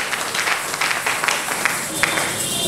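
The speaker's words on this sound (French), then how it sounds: "Applaudissez le Seigneur." Church congregation applauding during a Sunday worship service, a steady wash of many hands clapping with scattered sharper claps, continuous and moderately loud.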